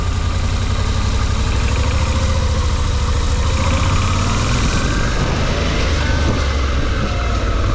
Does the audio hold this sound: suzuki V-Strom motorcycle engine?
yes